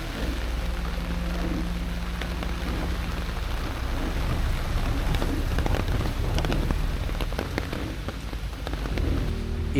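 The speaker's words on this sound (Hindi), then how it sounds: "अब तेज बारिश होने लगी है।" Heavy monsoon rain pours down steadily in the Tadoba forest, a dense, even hiss with scattered louder drips and splashes and no voices.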